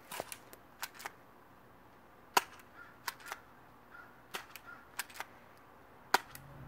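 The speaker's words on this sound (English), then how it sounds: "This is the Cyber Strike pistol," A Cyber Strike spring-powered airsoft pistol fires about a dozen sharp, quiet snapping shots at irregular intervals, each a crisp click-like pop in an otherwise quiet outdoor setting.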